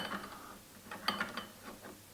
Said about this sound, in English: Removing the wing nut.